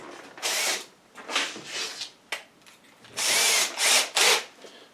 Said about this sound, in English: I'm going to gear up and drill this hole right here now.